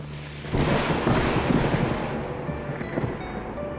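Cartoon heavy rain with thunder, a loud broad rumble bursting in after a quiet start and rolling on as a steady downpour hiss.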